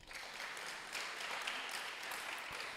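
An audience claps at a community development and donation ceremony in the Abura community of Ghana, producing steady, fairly faint applause that holds throughout with no voices.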